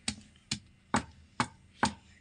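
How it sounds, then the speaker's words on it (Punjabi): Five sharp, evenly spaced thuds of a stone pestle pounding onion chutney in a stone mortar, a steady rhythm about two per second, close and clear with no talking. "ਹੁਣ ਇਹਨੂੰ ਆਪਾਂ ਉਨੀ ਦੇਰ ਤੱਕ ਕੁੱਟਦੇ ਰਹਾਂਗੇ ਜਿੰਨੀ ਦੇਰ ਤੱਕ ਆਪਣੀ ਚਟਣੀ ਬਰੀਕ ਨਹੀਂ ਹੋ ਜਾਂਦੀ"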